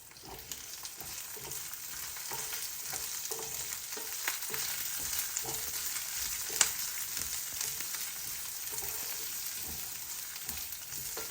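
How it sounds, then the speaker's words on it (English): Dry red chili, curry leaves and garlic roast in a pan with a steady, even sizzle, punctuated by occasional scraping stir strokes close by, with no voices. "So now we're going to roast everything together."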